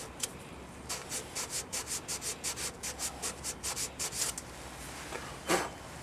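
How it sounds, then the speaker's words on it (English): A 180-grit Siasoft abrasive strip rubs back and forth inside a drilled 3/8 inch hole in a wooden magnetic pen holder, giving a steady run of about fifteen quick, even sanding strokes, fairly close and clear, with a last louder rasp after a short pause. "So this is a strip of 180 grit Siasoft from Vince Welsh"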